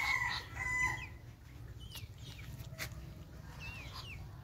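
Backyard chickens cluck softly and a rooster crows faintly in the distance, with a few scattered bird calls over a low steady background hum and no talking.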